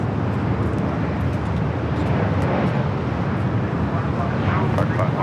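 A Southwest Boeing 737-700 airliner at LAX makes a steady, loud broadband jet roar that holds evenly throughout, with no clear rise or fade.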